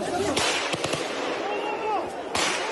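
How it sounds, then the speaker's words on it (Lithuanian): Soldiers fire guns at the Belarus–Poland border as migrants try to cross, a handful of sharp cracking reports scattered over a noisy outdoor background, with voices present. "Neaišku, Baltarusijos ar Lenkijos kariai šaudo."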